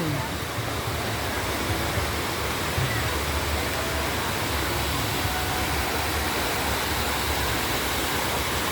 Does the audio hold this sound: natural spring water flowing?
yes